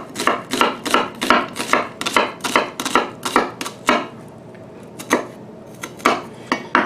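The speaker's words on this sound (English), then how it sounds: "slice straight up and down to give us half of our onion" A knife slicing an onion on a cutting board, a fast run of crisp rhythmic chops, then a pause and a few slower cuts, close and alone.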